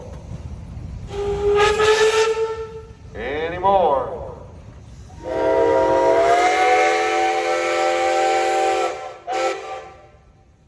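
A Reading 2100 steam locomotive sounds its whistle outdoors at a steam show, first in a short blast and then in a long sustained chord, with people talking briefly between the blasts.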